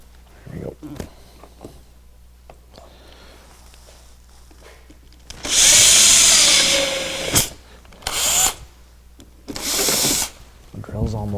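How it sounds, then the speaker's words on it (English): A cordless power drill whirs in several short bursts while mounting vents on a Polaris IQR 800 snowmobile, loud and close, with people talking in between. "The drill's almost dead."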